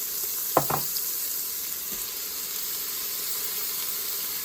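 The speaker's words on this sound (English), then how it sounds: "now we're ready to add our onions, as well as our celery" Onions and celery going into an Instant Pot for baked beans, with a quick pair of clattering knocks as they drop in, then a faint, even sizzle that holds quietly on its own.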